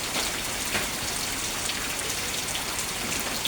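Heavy rain pours steadily at night, a constant close hiss of drops on surfaces with scattered brighter splashes and no voices.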